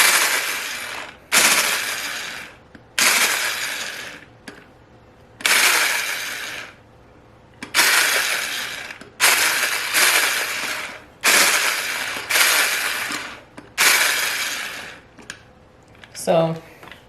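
Electric hand mixer whipping homemade whipped cream, run in repeated short bursts of about a second each with brief pauses between, loud and close, with a clunk at the end.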